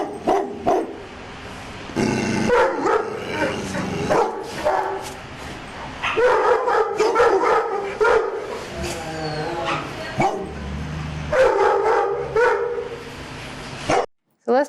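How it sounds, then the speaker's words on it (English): A dog gives alert barks in bursts with growls and whimpers between them, close and loud, followed by a sudden stop near the end. "upon approach, you're getting that alert barking, got some growls going on"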